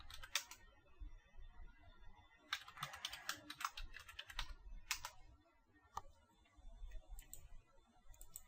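Password typed on a computer keyboard, quiet bursts of rapid key clicks with short pauses between them, close and clear in a quiet room.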